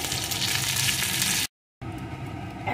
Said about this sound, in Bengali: এখন পটলটা সুন্দর করে এইভাবে নাড়িয়ে নাড়িয়ে ভালো করে ভেজে নেব।